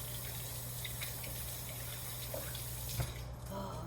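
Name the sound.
washing hands under a running water tap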